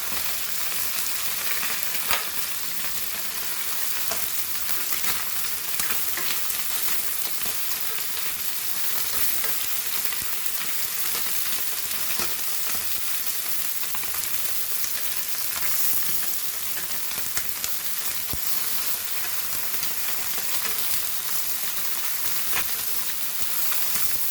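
Rava-coated Goan anchovies frying in hot oil, a dense, continuous close crackling sizzle with scattered pops, steady throughout with no voices.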